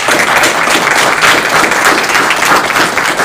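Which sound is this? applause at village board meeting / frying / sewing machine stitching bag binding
applause at village board meeting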